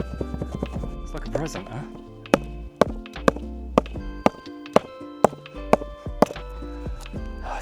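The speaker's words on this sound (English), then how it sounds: "Get the mallet out. Turn this towards us a bit. And we start hitting." Mallet striking a ball of aluminum foil outdoors, a series of sharp, evenly spaced knocks at moderate loudness, with people talking over the start.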